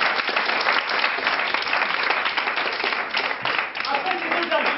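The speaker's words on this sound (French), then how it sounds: "Applaudir," Dense, loud audience applause at a debate-style contest, a continuous wash of many hands clapping at once, steady for the whole stretch with faint voices mixed underneath.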